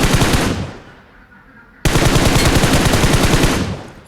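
Automatic gunfire in PUBG Mobile, a loud close burst of rapid shots that fades out, a pause, then a second sustained volley of rapid-fire shots.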